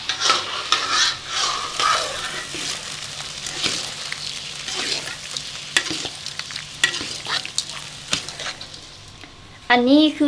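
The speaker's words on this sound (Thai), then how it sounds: "แล้วเราก็คนคนคน" A sugar mixture is stirred in a pot for Laotian miang kham, with repeated scraping and clinking strokes over a soft sizzle, spaced at an uneven rhythm, and a voice speaking near the end.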